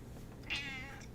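Mochi, a pet cat, lets out a single clear meow asking for food, close to the microphone against a quiet indoor background.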